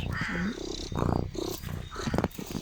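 A cat being petted outdoors purrs and makes rough, throaty sounds up close, fairly loud, in short bursts over a few seconds.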